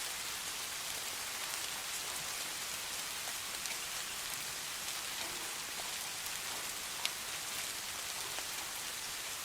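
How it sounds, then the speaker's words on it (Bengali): Heavy rain pours steadily during a long rain-soaked trek from Jaflong to Bichanakandi in Sylhet, a dense, even wash of falling water that stays constant throughout with no voices. "এখন কিন্তু অনেক বৃষ্টি হচ্ছে তো"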